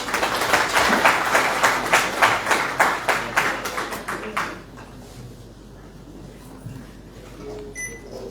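An audience at a formal Rotaract and Interact back-to-school ceremony in Mali applauds, a dense burst of hand claps for about four seconds that quickly fades into quiet room ambience.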